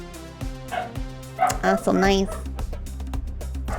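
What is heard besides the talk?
dog barking at snowmobiles outside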